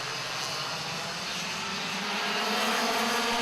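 100cc Clubman Light go-karts racing in an Indy 800 series race: a dense, steady buzzing engine drone that swells slightly louder toward the end, heard continuously without talk.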